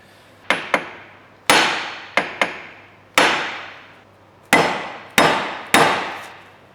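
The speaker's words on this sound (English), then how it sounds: "after giving it a good one with the hammer, finally dropped" Sharp metallic hammer blows on a car's ball joint ring out one after another, single strikes and quick pairs with brief ringing decay, loud and close with no talking.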